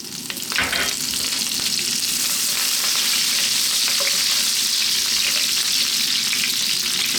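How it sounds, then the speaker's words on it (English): Curry leaves hit hot oil for a lamb curry, giving a loud, continuous crackling sizzle with steady frying hiss throughout. "We're now going to drop in our curry leaves."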